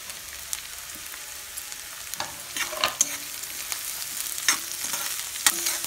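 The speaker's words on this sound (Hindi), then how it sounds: "सब्जियों को चलो फ्राई करना है, ज़्यादा पकाना नहीं है" Chopped capsicum and onion fry in a pan, a soft continuous sizzle broken by scattered scrapes and clicks of a stirring spoon, close and fairly quiet with no talking.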